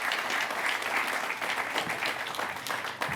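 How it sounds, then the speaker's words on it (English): Sustained audience applause at the dedication ceremony for the Foothill Gold Line San Dimas "A" train station, a dense, even wash of clapping from an outdoor crowd. "So big round of applause to the board again."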